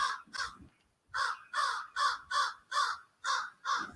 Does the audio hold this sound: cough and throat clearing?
no